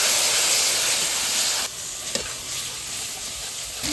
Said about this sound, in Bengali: দেখেন কি সুন্দর করে কষাইছি